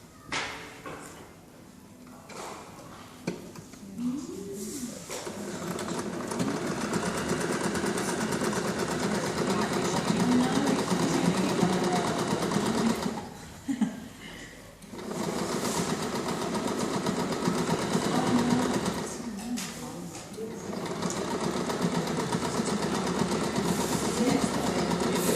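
Steady mechanical whirring of a sewing machine running a straight stitch, in two long sustained runs separated by a brief stop, close and moderately loud, with a person talking quietly at the start.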